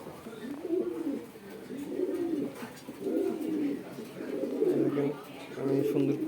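Racing pigeons on a farm coo in repeated low rolling phrases, close by and moderately loud, with someone talking over them.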